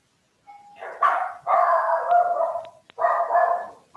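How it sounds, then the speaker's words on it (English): Several dogs bark and yip at a door, starting with a lone howl-like call and building into a loud, continuous, overlapping chorus with a brief pause before another burst. "there's somebody at the door and the dogs are saying hello."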